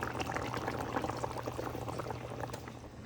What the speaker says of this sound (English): I'm going to add this coconut paste into this.